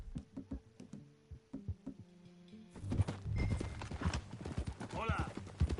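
Horse hooves clip-clop in a steady gait while riding in Red Dead Redemption 2, starting sparse and quiet, then joined by a denser rush of hoofbeats and movement noise, with speech in the scene.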